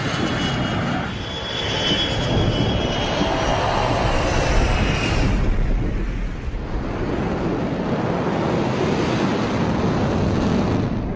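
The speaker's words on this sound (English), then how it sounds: "Vance on Ellis Tower, you're cleared for takeoff." A fighter jet takes off during a Red Flag exercise at Nellis, its loud, steady engine roar filling the scene with a wind-like rush and no voices.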